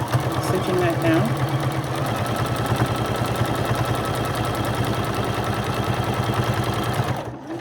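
Sewing machine stitching plum fabric on a pillow cover runs in a steady rapid chatter for several seconds, close and even, stopping just before the end.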